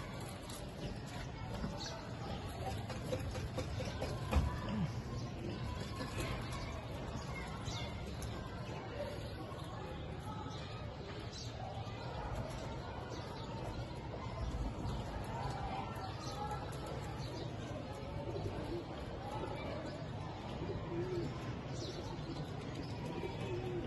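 Indian Lakha pigeons are let loose in Lahore, giving soft cooing and faint wing flutters over low background noise, with someone talking across the scene.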